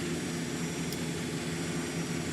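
A Cessna Citation X jet engine spools up in a flight simulator with a steady, loud droning whine and hum that holds constant throughout, close and without any talk.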